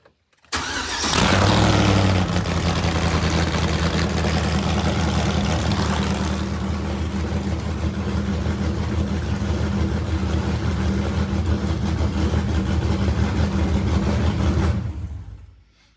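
A race-prepped tuff truck engine cranks briefly, catches and settles into a loud, steady idle that holds close and constant for over twelve seconds before cutting off.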